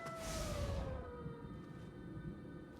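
In the video game La purification de l'œil démoniaque, a cat wails like a crying baby: one long, falling, moaning tone over a noisy background rumble, then fading.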